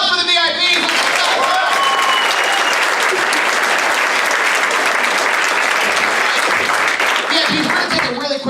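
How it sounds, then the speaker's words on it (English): Loud, sustained audience applause for VIP guests at a stage hypnosis show, dense close clapping filling the room, with cheering voices at the start and end. "Applause for the VIPs!"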